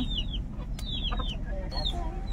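Several chickens cluck and chirp close by in a Sundarbans village over a low rumbling background, with short, rising calls overlapping in quick succession.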